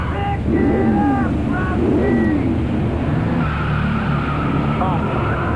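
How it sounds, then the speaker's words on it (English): Stock car racing at the 1995 Richmond Miller Genuine Draft 400, with an engine roar and skidding tires squealing, loud and continuous beneath an announcer's voice. "Genuine draft Rusty Wallace stock car."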